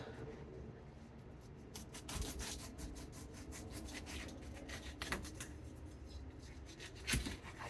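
A knife saws through the bottom of a pineapple, a close, quiet scraping and rasping with irregular crunchy strokes and sharp fibrous snaps.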